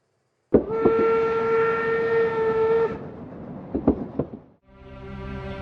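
A steam train sound effect plays in a museum railway car exhibit: a loud, sustained steam whistle tone over rumbling, then clanks and a hiss, ending in a second whistle blast. No voices.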